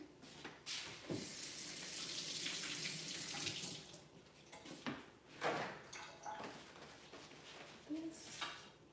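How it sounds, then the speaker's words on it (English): Hands are washed under a running kitchen tap, with a steady, quiet stream of water broken by splashes and rubbing and a few soft clinks nearby. "So let me wash my hand."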